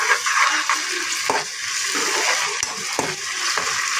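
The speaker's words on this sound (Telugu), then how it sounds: "చక్కగా ఫ్రై చేసేసుకుంటాం కలర్లో." Onions with tomato and ginger-garlic paste fry in a pan for an egg tomato curry, giving a steady close hiss broken by a few soft stirring scrapes and taps.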